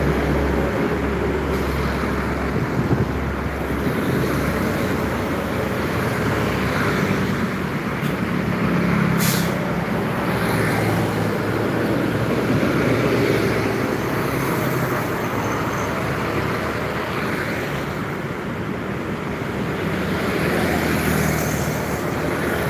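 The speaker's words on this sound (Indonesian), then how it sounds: "Truk-truk kecil nah banyak." Road traffic rumbles steadily as small trucks pass by, a continuous broadband roar of engines and tires at moderate distance with no speech over it.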